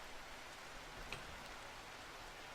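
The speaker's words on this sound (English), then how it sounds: "I'm guessing it's because it's raining outside." Steady rain falls in RimWorld, a soft, even hiss with no voices, holding at the same quiet level throughout.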